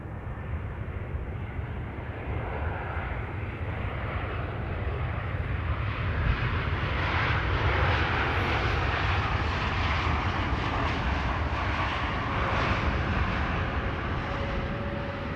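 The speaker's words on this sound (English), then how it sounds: "This is KLM flight 1002, arriving from London Heathrow, an A321neo" A KLM Airbus A321neo arriving at Amsterdam Schiphol on a sunny morning produces a steady, broad jet roar that swells gently toward the middle and then holds, heard from outdoors with no talking.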